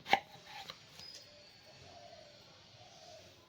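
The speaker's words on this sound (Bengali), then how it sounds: "এবার আপেলগুলোকে আমি কেটে নেব।" A knife cuts through apples on a board, giving a sharp chop at the start and a few lighter cuts after, then quiet scraping faintly in the background.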